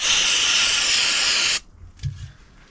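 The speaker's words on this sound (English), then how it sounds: "then quick spray of brake cleaner" Aerosol brake cleaner sprayed onto Chris King bottom bracket bearings during a bicycle service: one loud, steady hiss lasting about a second and a half, then a sudden stop followed by faint handling clatter.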